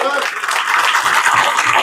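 An audience applauding at a leadership training event, a dense wash of clapping that fills the whole stretch, loud and close, with no distinct speech.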